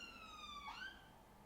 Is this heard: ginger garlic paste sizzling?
no